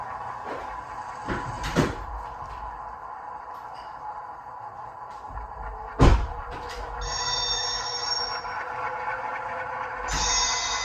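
Rolling mechanical rumble of a model train with occasional clunks, then a shrill metallic flange squeal effect rises and fades twice, fairly close, over a constant whirring background.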